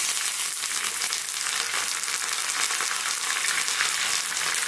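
Dried red chilies and curry leaves fry in hot oil for a mutton dalcha, giving a loud, dense, crackling sizzle that holds steady throughout.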